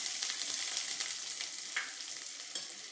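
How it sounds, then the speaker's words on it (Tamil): Small onions and curry leaves sauté in oil with clove and cinnamon, giving a soft, steady sizzle and crackle with occasional stirring scrapes, close and fairly quiet, with no talking. "நல்லா வதங்கிக்கிச்சு, ப்ரௌனிஷ் ஒரு மாதிரி கோல்ட் கலர் ஆகிற வரைக்கும் நல்லா வதக்கிக்கோங்க."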